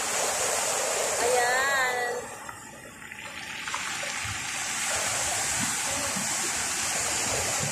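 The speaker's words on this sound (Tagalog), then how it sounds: "sarap naman ang dagat" Sea water washes and flows over stones on the shore at Salalah, Oman, a steady close rushing hiss that swells and eases, with a voice speaking briefly over it.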